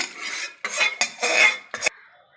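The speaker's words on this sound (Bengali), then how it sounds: "এবার কড়াটা ধুয়ে জল ঢেলে দিচ্ছি" Metal wok being rinsed and water poured into a pressure cooker while cooking a light chicken curry, giving several short clattering, splashing bursts close by, then a quieter trickle at the end.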